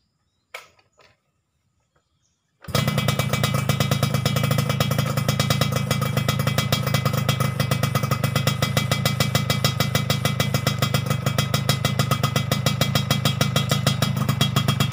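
A modified Yamaha F1ZR two-stroke motorcycle engine fires up after a couple of faint clicks and then runs steadily with a loud, close, rapid buzzing idle that holds for about twelve seconds, with no talk over it.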